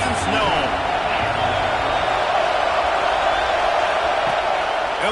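A football stadium crowd at a Tennessee versus South Carolina game roars in a steady, loud, continuous wash of cheering and whoops that fills the space without a break.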